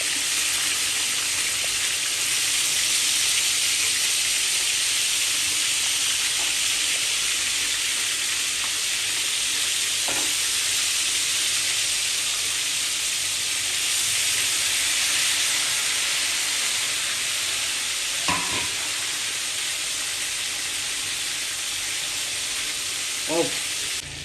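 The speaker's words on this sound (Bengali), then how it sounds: "আমার কাঁকড়া লাল লাল করে ভাজা হয়ে গেছে।" Crabs fry in a pan with a continuous, close hissing sizzle that holds steady for over twenty seconds, broken by a few faint clicks and scrapes of stirring.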